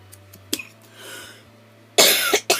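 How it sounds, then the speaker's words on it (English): One person coughs indoors, a couple of small throat sounds followed by a loud, harsh double cough near the microphone over a low electrical hum. "I just can't get rid of this cough"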